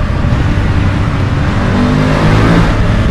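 A BMW F850 GS motorcycle engine roars steadily at high revs in fifth gear, a continuous close-up drone with a slight rise in pitch toward the end.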